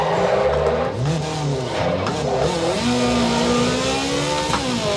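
A race car engine in a racing video game snarls loudly, rising and falling through quick gear changes before settling into a sustained high whine.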